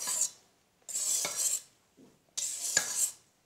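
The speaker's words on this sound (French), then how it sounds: "Je verse le chocolat dans les œufs délicatement" A utensil mixes melted chocolate and butter into eggs in a bowl, heard as three short, close scraping whisk strokes separated by brief quiet gaps, with no talking.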